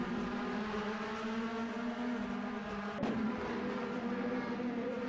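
DTM race car engines in an Assetto Corsa mod, a steady high-revving drone with a sharp shift-like crack near the middle, moderately loud and continuous with no voices.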